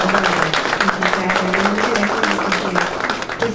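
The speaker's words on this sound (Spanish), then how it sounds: "Un aplauso" Audience applause at a Spanish-language lecture marking Book Day, a steady dense patter of many hands clapping throughout, with a voice faintly audible beneath.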